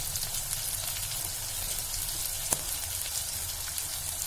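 Green chillies, curry leaves and asafoetida frying in hot oil: a steady, even sizzle with fine crackling throughout and one brief sharper pop midway.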